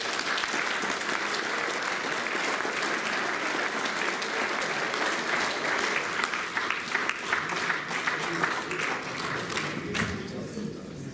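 Sustained audience applause in a room at a speedway riders' association dinner, dense steady clapping from many people that continues for several seconds with a voice briefly audible beneath it.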